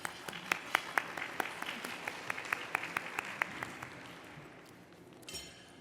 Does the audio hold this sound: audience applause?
yes